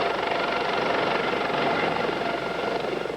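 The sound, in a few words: Maryland State Police helicopter flying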